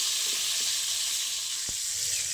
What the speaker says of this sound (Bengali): এবার আলুগুলো আমি একটু লাল লাল করে ভেজে নেব।